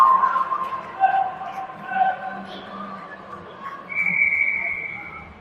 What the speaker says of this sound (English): so the ref blows the whistle